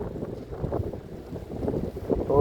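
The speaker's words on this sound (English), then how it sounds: "oh, it's very windy." Strong wind buffets the microphone in rough, low gusts, a continuous rumbling roar that swells and ebbs with no voices.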